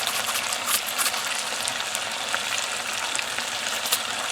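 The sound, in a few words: stirring red pepper flakes in a sizzling pan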